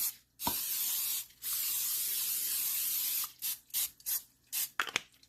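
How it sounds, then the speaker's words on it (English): A long steady hiss of aerosol nonstick cooking spray onto two baking pans, followed by several short bursts of spraying, close and fairly loud, with no talking. "Spray a little nonstick spray."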